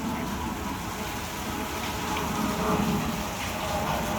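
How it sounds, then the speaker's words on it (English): Steady rain falls outside an open door on New Year's Eve, a dense, even hiss of drops hitting surfaces that holds at a moderate level throughout, with no voices. "listen to this rain. It sounds so good."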